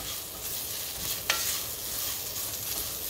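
Tortillas being stirred in a frying pan with little oil, a faint continuous sizzle broken by a single sharp utensil tap against the pan, heard close and without speech.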